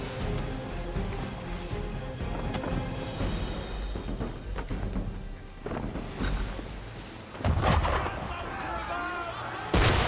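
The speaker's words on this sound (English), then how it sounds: "Why is he shooting at us?" Cannon and gunfire in Assassin's Creed III aimed at a boat: heavy booming blasts and cracks over rumbling water, the loudest bursts landing near the end.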